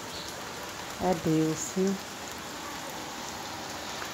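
Steady rain falls, a constant hiss of drops on surfaces throughout, with a brief spoken phrase from a person partway through.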